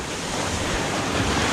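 Ocean surf surges and churns steadily around sharp coral rocks at the mouth of a sea cave, a loud continuous wash of water with wind buffeting the microphone throughout.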